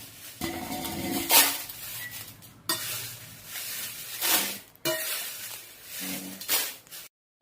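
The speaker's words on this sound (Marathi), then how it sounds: "राहिलेली मिरची आहे ती याच पद्धतीने भाजून घेऊया." Small lavangi chillies roasting in a dry pan: repeated scraping stirs and rattles against the metal over a faint sizzle, coming in several strong bursts with short pauses, close and alone.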